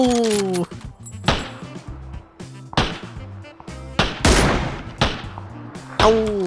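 In a PUBG match, loud gunfire cracks in repeated bursts and single shots at irregular intervals over background game music.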